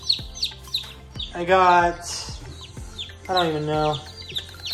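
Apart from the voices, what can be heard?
baby chicks peeping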